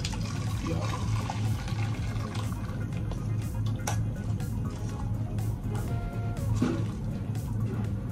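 Cooked Jin ramen poured from the pot into a serving bowl, a steady wet sloshing pour with noodles and broth spilling continuously, close and moderately loud, with a few light knocks along the way.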